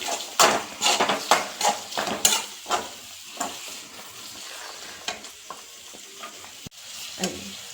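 Carrots and beans frying in a pan with a spoon stirring, giving a close, clear run of scraping clatters over a steady sizzle, busier at first and thinning out toward the end.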